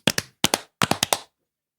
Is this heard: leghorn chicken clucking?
no